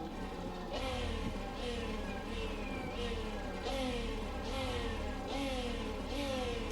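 Race Sim Studio's Formula 1990 V12 race car engine in a racing sim idles just off idle in the pits at Vallelunga, a steady rumbling drone with small periodic revs swelling roughly every second, close and continuous.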